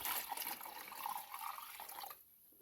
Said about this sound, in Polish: lejemy wodę